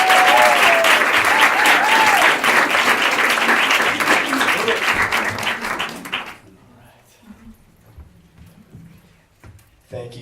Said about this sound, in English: So let's give a round of applause for Dr.